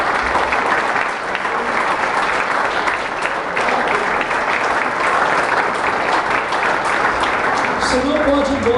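A church congregation applauds in worship, loud, sustained and even clapping throughout, with voices calling out over it.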